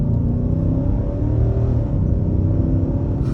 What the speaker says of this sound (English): And stepping out here, about half throttle.